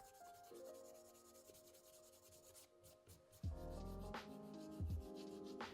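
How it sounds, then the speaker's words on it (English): Abrasive sanding of dried filler on the midsole of a worn Jordan 3 Black Cement sneaker, heard close up as steady rubbing strokes with a few heavier, louder passes near the end. "so I need to sand this down"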